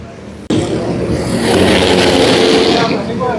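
Twin-engine racing karts run at a Le Mans karting event in 2024, cutting in abruptly with a loud, sustained engine roar that swells and holds steady, close and continuous throughout.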